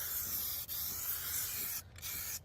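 Spray paint hisses onto a vehicle chassis outdoors in a continuous close spray, broken by two brief pauses as the nozzle is released.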